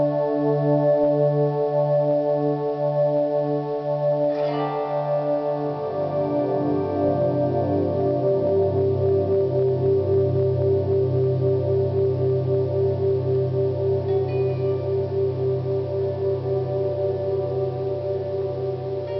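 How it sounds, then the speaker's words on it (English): Slow guitar swells washed through a Damage Control Glass Nexus pedal, mostly delay and reverb with vibrato, sustained tones blooming and overlapping into a dense, shimmering ambient pad, alone and steady throughout. "So that's mostly delay and reverb."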